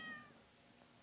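A house cat in a computer repair shop gives a single brief meow near the start, with a thin whine and a few upper harmonics. It fades into quiet room tone after a moment.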